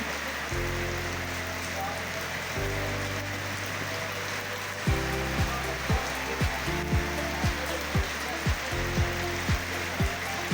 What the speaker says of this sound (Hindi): 24 वोल्ट का पंखा लगा दिया है